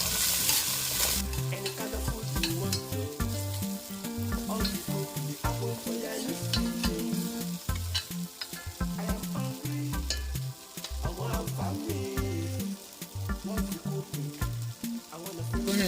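Onion and garlic frying in a pot for a chicken Alfredo sauce give a steady, close sizzle for about sixteen seconds, with occasional stirring scrapes and a layer of tonal background music.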